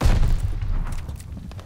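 Gunfire in the World War II shooter Call of Duty: Vanguard: a loud, dense burst of booming shots with rumbling low end that slowly fades over under two seconds, no talk.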